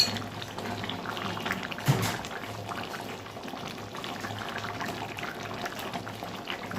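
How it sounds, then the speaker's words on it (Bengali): Mustard and poppy-seed fish curry gravy with pabda fish, tomato and green chillies bubbles in a pan on a gas stove, a steady close simmering crackle with one brief clunk and no speech. "জল দিয়েছি, ঝোলটা ফুটছে"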